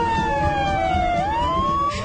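Wailing emergency siren of an ambulance or fire engine, a loud steady tone that dips and rises again, heard alone over a rumbling background.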